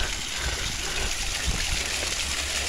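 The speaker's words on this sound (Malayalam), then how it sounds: "ഇതാ ഇവിടെയും ഒരു വെള്ളച്ചാട്ടം ഉണ്ട്." A small waterfall in the misty Kodaikanal hills gives a steady, broad rush of falling water, close and continuous.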